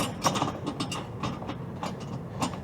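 A ratchet tightens a bolt on the front end of a 2014–2021 Toyota Tundra, giving a close series of quick, irregular clicks with no talking.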